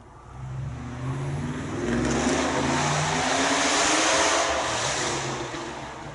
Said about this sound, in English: It's a lot of noise for a car. It's just barely moving.